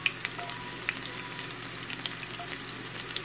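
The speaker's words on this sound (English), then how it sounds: "First, I'll be adding the garlic into the oil." Garlic sizzling in hot oil with dried red chilies and curry leaves, a steady close frying hiss with faint crackles and a few soft pops throughout, no voices.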